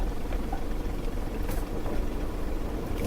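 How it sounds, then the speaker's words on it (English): A 2000 Nissan Xterra idling with a nearly missing exhaust system, a steady low rumbling drone close by and fairly quiet, unchanging throughout with no speech. "sounds like the exhaust system is, like, not even there"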